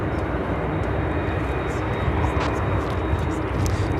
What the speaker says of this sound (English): MD-11 heading there into the gates